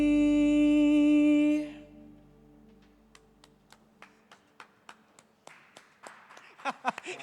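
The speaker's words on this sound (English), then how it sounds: "It's just the two of us clapping." Just two people clap at a small charity Christmas concert, sparse and close, after a sustained musical note fades; the claps come irregularly and grow slightly quicker toward the end.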